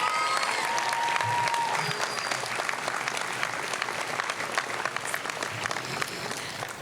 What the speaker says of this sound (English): can you all please give yourselves a round of applause